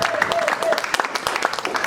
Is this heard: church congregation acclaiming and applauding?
yes